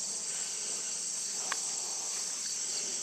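Insects in a summer garden near corn stalks make a steady, continuous high buzzing and chirring drone, fairly close and even throughout, with one faint brief click midway and no talk.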